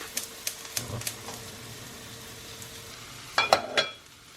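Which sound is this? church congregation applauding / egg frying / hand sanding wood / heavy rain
egg frying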